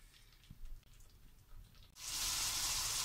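Food for misal pav starts sizzling over a high gas flame: a faint quiet stretch gives way to a sudden, loud, steady hissing crackle of frying that carries on to the end.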